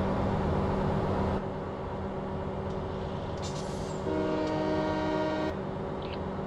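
A train rumbles past steadily in Farming Simulator 17, with a brief higher clatter partway through and no talking.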